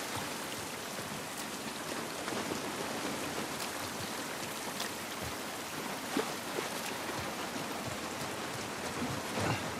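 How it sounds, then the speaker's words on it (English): Steady rain falls in the video game The Last of Us Part I, a dense even hiss of drops on surfaces with occasional louder splatters, continuous and without voices. "This rain ain't gonna do us any good."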